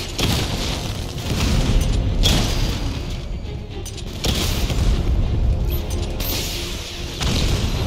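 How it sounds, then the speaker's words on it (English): Repeated heavy booms and explosive blasts from 60 millimeter cannon fire in Batman: Arkham Knight, arriving in loud bursts roughly every two seconds over a continuous rumbling game backdrop. "Your 60 millimeter cannon will penetrate these heavily armored units, but it'll take a few direct hits to destroy them"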